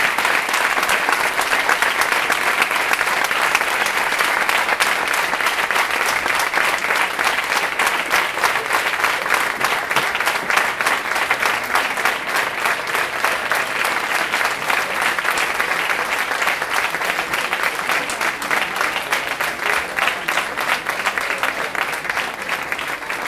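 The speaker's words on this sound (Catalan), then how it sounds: "demane una gran ovació per a ella" A large audience gives a big, sustained ovation at the Exaltació Reina de L'Horta 2019 ceremony. Dense, steady clapping continues at an even level for over twenty seconds with no speech over it.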